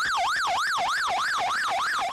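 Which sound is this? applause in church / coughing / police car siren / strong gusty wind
police car siren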